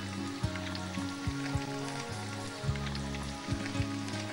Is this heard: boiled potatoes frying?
yes